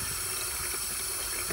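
Hot water pouring steadily from a kitchen faucet, a constant close hiss and splash that stays even for the whole short stretch, with no voices.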